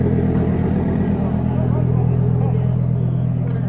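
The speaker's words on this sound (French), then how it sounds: "Lamborghini Sterato," Lamborghini Sterrato supercar engine at a hillclimb paddock, a loud, steady low rumble idling close by with people talking over it.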